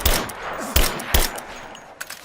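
Sharp gunshot bursts ring out in a Rise of the Tomb Raider firefight, three or four loud close cracks spaced about half a second apart over a steady noisy wash of distant gunfire and battle ambience.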